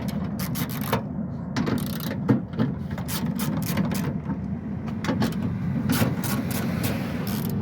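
A hand ratchet and fingers work loose the nuts holding the lift gate handle assembly on a 2002 Ford Windstar, producing rapid close clicks and small metallic ticks over a constant low hum.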